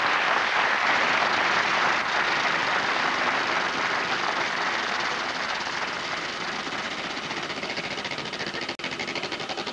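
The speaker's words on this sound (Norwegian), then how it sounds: "En applaus skal du ha." Audience applause at a Norwegian comedy improv show, a dense, steady wash of clapping from a large crowd that holds for nearly ten seconds and fades slightly toward the end.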